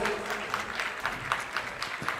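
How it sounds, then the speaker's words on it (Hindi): An assembly hall audience gives applause for an honoree's achievement, moderate clapping from a gathered crowd, fairly even with a few sharper individual claps standing out, no speech over it. "एक बार मैं चाहता हूं उनकी इस विशिष्ट उपलब्धि के लिए पूरा सदन जोरदार तालियों से"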